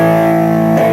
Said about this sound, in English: look at distortion, which is the overdrive sound